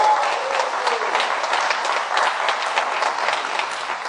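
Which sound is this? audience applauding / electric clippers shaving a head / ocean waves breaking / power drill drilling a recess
audience applauding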